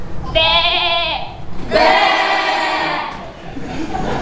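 Sheep grazing in a park meadow bleat loudly and nearby, two long wavering calls one after another over a faint crowd murmur.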